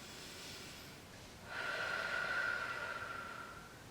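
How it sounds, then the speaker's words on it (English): A deep inhale through the nose during a beginner AeroPilates reformer workout rises after a quiet moment, a breathy rush lasting about two seconds close to the microphone, then fading. "Let's take another breath."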